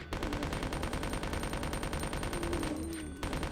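Rapid automatic gunfire pours into a zombie in the survival horror game Resident Evil 2, a steady, loud stream of shots close up that barely pauses for about three and a half seconds.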